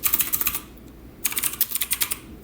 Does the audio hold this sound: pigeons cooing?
no